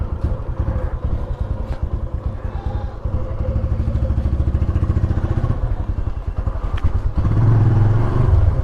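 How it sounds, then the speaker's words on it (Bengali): A motorcycle engine runs close by, a fast rhythmic putter that thickens into a steadier, louder idle and then revs briefly near the end. "প্রথমে বাইক স্টার্ট করতেছি।"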